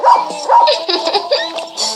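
A dog barks in a close, loud series of quick yips and short barks, with whimpering tones in between, alone without talk.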